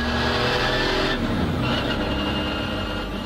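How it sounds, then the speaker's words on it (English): A Porsche 964 Supercup race car engine runs loud and close, a steady raw drone with a shift in pitch partway through, heard alone without talk. "The race car's a bit noisier."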